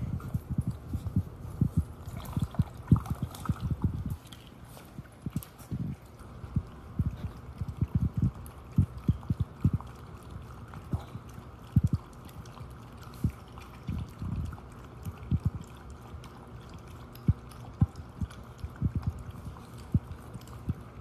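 A pet dog named Sophia laps water from a bowl, the water freshly poured. The laps come close and soft in a steady rhythm that pauses now and then, with no talking.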